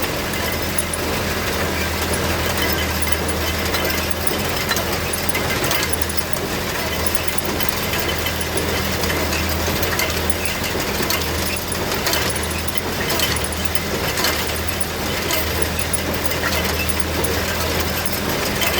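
An old tractor engine labours steadily in a one-acre Bahia grass hay field, a continuous close rumbling drone with rattling mechanical noise throughout, no voices.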